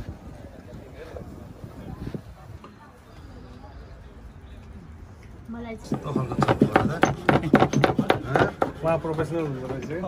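Masala spices pounded by hand at an annual community picnic barbecue in Surrey, Canada: a run of sharp, rapid thuds starts partway through, close and loud, with voices chatting throughout.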